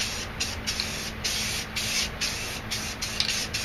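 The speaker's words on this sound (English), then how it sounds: "and just spray it where the mountain's going to be." Aerosol can of purple spray paint hissing in a steady broadband spray with short pulsed bursts, close and continuous throughout, laid over a stencil for a painted space scene.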